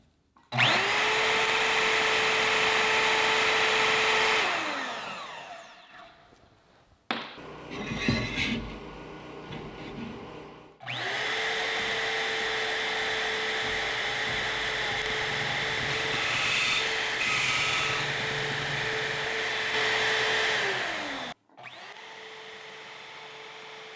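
A portable handheld band saw mounted on a Swag Off Road Porta Band stand runs loud and steady, winds down, then runs again through a long cut with a buzzing blade tone, stops briefly and restarts.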